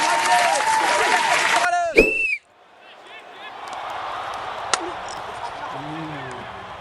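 Spectators clap for the final semifinal game of a rough village badminton match between boys. A voice speaks briefly, then after a short gap a steady wash of clapping rises at a moderate distance.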